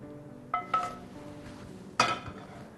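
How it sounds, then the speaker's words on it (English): Ratatouille and pasta going into an oven-proof dish: a few light clinks and knocks of utensil against ceramic, two brief clusters close by, with soft kitchen background between. "Now this ratatouille and pasta is going to go in a oven-proof dish."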